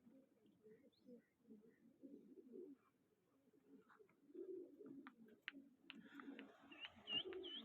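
Pigeons coo softly and continuously in low, rolling murmurs, with a few faint chirps and clicks joining near the end.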